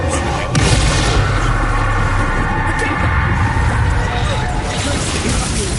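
An Incendio fire spell is cast in Hogwarts Legacy, a loud, continuous roaring whoosh of flame with booming blasts. It is close and dense and fills the whole stretch, with combat noise mixed in.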